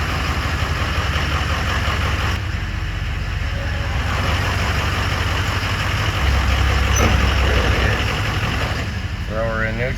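A Ford 6.0 diesel truck engine with a cracked injector nozzle idles roughly, a steady loud low rumble close by throughout, with a person talking over it.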